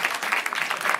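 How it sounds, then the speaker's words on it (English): An audience applauds the game show players, steady clapping filling the whole moment at an even, fairly loud level. "Hey, clap for the players here."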